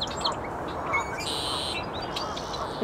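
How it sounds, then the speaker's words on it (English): Red-winged blackbirds sing amid a dense chorus of chirping birds, with one buzzy trilling call standing out briefly over the steady racket. "some of them are red-winged blackbirds"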